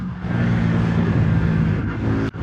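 A 2025 CFMOTO 450 CL-C motorcycle with automatic transmission downshifts from fifth to fourth to third and eases off the throttle, its loud, close engine note droning steadily and then dropping away abruptly near the end.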